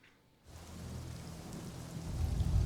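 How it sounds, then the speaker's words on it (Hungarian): Steady rain in the video game Marvel's Midnight Suns starts abruptly after a brief quiet moment, a dense close hiss with low rumbling underneath that swells louder toward the end. "Esik az eső"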